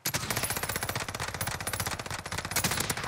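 Dense automatic gunfire from an SMG build in a first-person shooter, rapid continuous bursts at steady loudness for about three seconds with no talk over it.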